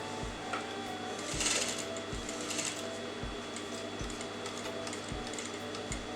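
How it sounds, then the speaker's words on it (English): A sewing machine stitching a fabric neckline, running steadily with a low mechanical hum and a regular thump roughly every second, close and moderately quiet with no speech. "now put the needle in, turn it out, and I'm going to sew all the way up"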